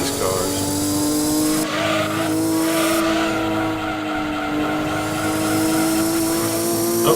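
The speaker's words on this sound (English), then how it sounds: "I do like the sound of that turbo on these cars." A turbocharged race car in Gran Turismo 2 endurance racing drones loudly and continuously, engine note climbing gradually with turbo whine and brief tire squeals, while someone talks over it.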